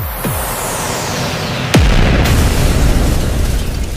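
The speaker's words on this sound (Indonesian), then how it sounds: "Ledakan api biru menyala seperti sambaran petir" A blue fire explosion sound effect: a sharp whooshing blast with a descending sweep, a second louder burst, then a sustained rumbling roar close and loud.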